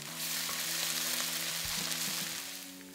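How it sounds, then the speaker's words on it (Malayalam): Crushed garlic, ginger and chopped green chillies sizzle and get stirred in a hot pan for a Kerala chicken roast, giving a soft, steady frying hiss with light scraping, quite faint and close. "അതോടൊപ്പം തന്നെ 3 പച്ചമുളക് ചോപ്പ് ചെയ്തതും ചേർത്ത് 10 സെക്കൻഡ് നേരം പെട്ടെന്നൊന്ന് ഇളക്കുക."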